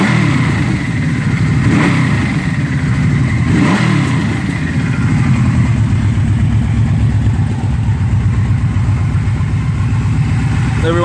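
A 1996 Yamaha Royal Star motorcycle engine with out-of-sync carburetors, revving up and holding high before slowly dropping, loud and close with a steady mechanical drone throughout.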